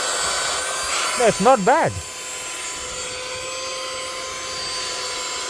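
Temu rechargeable car vacuum cleaner running with a steady, whiny motor drone throughout, while a person talks briefly over it in the middle.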